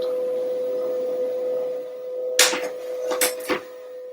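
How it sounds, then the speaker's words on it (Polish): A printer runs behind a steady electrical hum, first a quiet background drone and then a few short mechanical bursts of feeding and printing noise near the end. "To, co słyszycie, to drukarka."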